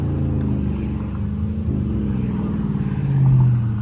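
A Dodge Charger RT with a 5.7 V8 and no mufflers or resonators rumbles with a deep, loud, continuous drone, swelling toward a stronger rev near the end, heard close from inside the car.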